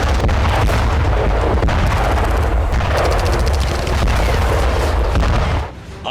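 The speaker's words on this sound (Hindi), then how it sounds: "बारूदी धमाकों से कांपती जमीन और धुआं धुआं आसमान, ये नारगोनो काराबाग है" Dense, continuous rumble of artillery fire and explosions from the Nagorno-Karabakh war, heavy low booms overlapping without pause and fading only at the very end.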